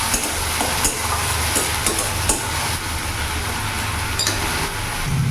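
A ginger, garlic and green chili paste with tomato is stirred in a pan over a medium flame: a steady close sizzle with occasional soft scraping strokes of the spoon, no voices.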